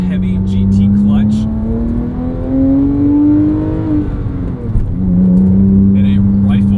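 Porsche 997.1 911 GT3 flat-six pulling away, close and loud, the engine note rising steadily through about four seconds, dipping at a gearshift, then climbing again; a voice talks briefly over it.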